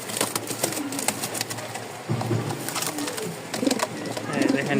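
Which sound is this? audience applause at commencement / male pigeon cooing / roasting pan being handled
male pigeon cooing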